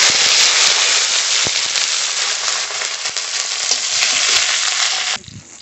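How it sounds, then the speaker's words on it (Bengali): Radhuni seeds, whole garlic and whole chillies sizzle loudly in hot oil, a dense, steady crackling hiss that runs unbroken for about five seconds before dropping away abruptly near the end. "তেল, রাঁধুনি ফোড়ন, রসুন, গোটা রসুন, গোটা লঙ্কা একসঙ্গে দিয়ে দেবো।"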